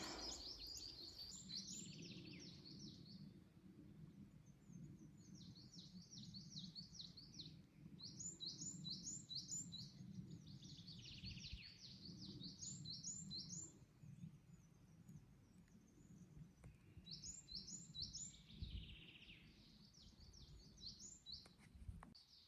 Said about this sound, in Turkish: kuş seslerinin şarkısını dinleyeceğim